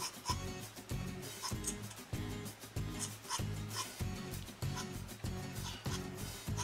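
Pencil scribbling rapid, loose strokes across paper while sketching an anime character's face, a steady close rasping rub in repeated bursts with no talking.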